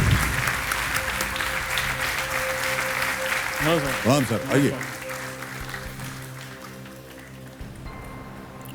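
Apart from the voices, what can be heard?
studio audience applause on KBC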